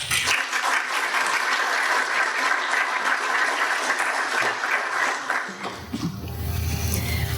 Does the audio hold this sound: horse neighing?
no